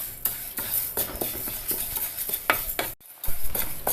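Ingredients for a green tomato curry being roasted and stirred in a hot pan, with steady scraping, utensil clinks against the metal and a light sizzle running throughout, close and moderately loud.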